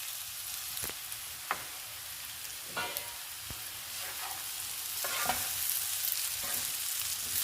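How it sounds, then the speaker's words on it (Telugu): Eggs fry in an onion and soya chunk curry in a pan, a steady hissing sizzle broken by several sharp spatula scrapes and taps, no speech. "ఇప్పుడు గుడ్లు కూడా తీసుకుని వేయించుకుందాము"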